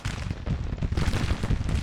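Cannons and massed gunfire rumble through a Civil War battle in a strategy video game, a dense continuous roar of overlapping shots and booms sustained at steady loudness.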